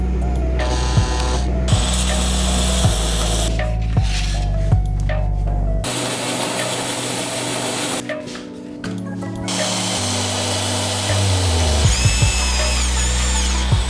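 Grinding knife parts for a frame lock folding knife in a workshop grinding room, loud whining grinder passes starting and stopping, with the motor spinning up and down between contacts and no talk.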